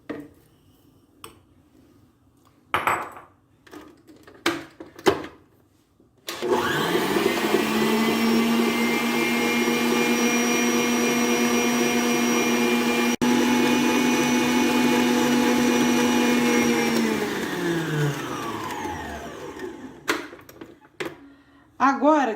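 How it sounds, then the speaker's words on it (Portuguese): An electric mixer whirs steadily for about ten seconds while beating eggs with sugar for a moist chocolate cake batter, starting and stopping cleanly, with clicks and a short spoken phrase before it. "Primeira coisa que nós vamos fazer aqui é bater os nossos ovos com o açúcar"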